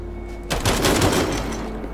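Gunfire in Gears 5 erupts suddenly after a quiet moment, a rapid burst of loud close shots that decays into a rumbling tail, with a faint tonal game hum beforehand.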